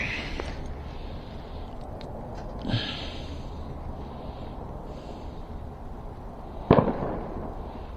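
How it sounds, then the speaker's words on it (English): Sharp single backfire-like pop at close range, preceded by a softer thump, against a steady background hum in a workshop where an electric bike's hydraulic brakes are being fitted. "I think that was a backfire. Don't worry about it. Nothing exploded."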